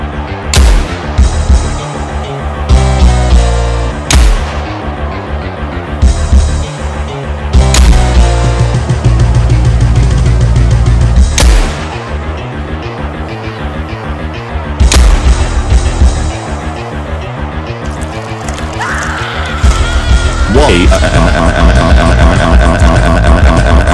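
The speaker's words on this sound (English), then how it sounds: "I guess it's time to use my cool-looking shotgun." Shotgun blasts ring out as sharp, loud booms spaced several seconds apart over a continuous droning music bed in a zombie scenario, with no voices.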